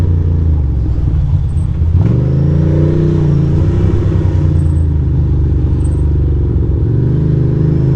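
A car swerving close past a Ducati motorcycle on a New York City street, a loud rumbling engine pass that swells and fades over steady motorcycle drone and road noise.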